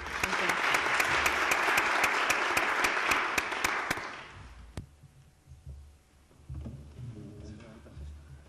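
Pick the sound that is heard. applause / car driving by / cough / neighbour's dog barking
applause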